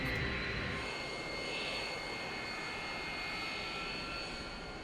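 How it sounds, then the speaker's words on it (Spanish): A small Cessna airplane taxis across a runway toward the apron, its engine a steady, faint drone with a constant hum. No talking. "Ahora el Cessna tiene que cruzar la pista de aterrizaje para llegar a la plataforma."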